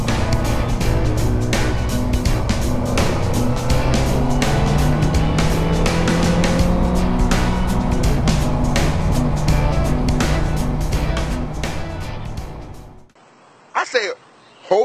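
A Honda CB650F motorcycle engine roars loudly and steadily up close with some wind. Near the end it suddenly cuts off and leaves near silence with a brief faint sound.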